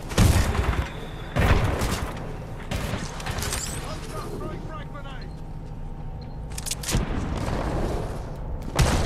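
Shotgun blasts in the Titanfall 2 campaign, a few heavy booming shots spaced several seconds apart with mechanical clanks and gear rattle between them, a short quieter stretch in the middle.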